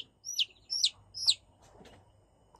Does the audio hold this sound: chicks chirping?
yes